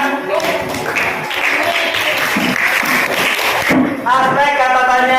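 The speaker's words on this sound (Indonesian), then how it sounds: "Tepuk tangan untuk kita semua." Students in a classroom applaud together during a lesson, a short burst of mixed clapping with a few thumps, while a voice speaks over it and then carries on alone at the end.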